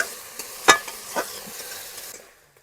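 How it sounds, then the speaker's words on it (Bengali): Onion paste fries with ginger and garlic in a pan, giving a short burst of sizzle and a couple of scraping stirs before fading out quickly. "এই পেঁয়াজ বাটাটা দিয়ে একটু ভালো করে ভেজে নেবো।"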